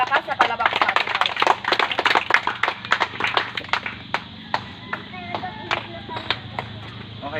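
A church congregation applauds to praise God, loud dense clapping that thins into scattered individual claps and fades out.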